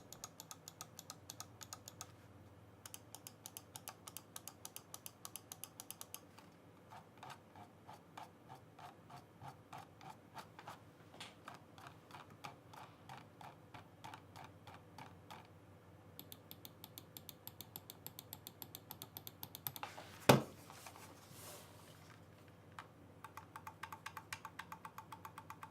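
Button clicks from a Ninox Venator computer mouse, with crisp close clicks in fast steady runs, separated by short pauses and one louder knock, and no one talking.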